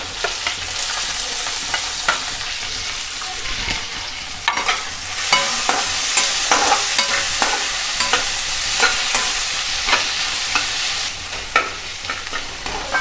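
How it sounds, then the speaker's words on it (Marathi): Finely chopped onion sautéing in a hot pan for a potato dry curry, a loud continuous sizzle with frequent scraping stirs close by, no voices. "मित्रांनो इथे आपला कांदा व्यवस्थित आपल्याला परतून घ्यायचा आहे छानसा गुलाबी रंग येऊपर्यंत"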